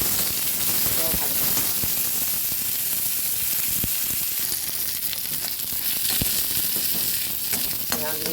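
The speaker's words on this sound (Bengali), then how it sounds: "পেঁয়াজ রসুনটা সুন্দর করে ভেজে নেব।" Chopped onion and garlic frying in a pan, a steady bright sizzle that holds evenly throughout with occasional small crackles and stirring clinks.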